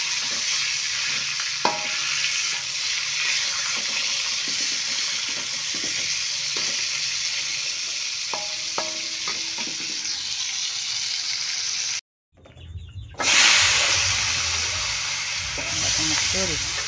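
Salted fish frying in hot oil for a home meal, a steady loud sizzle and crackle with occasional pops and clinks, briefly cut off and then resuming even louder.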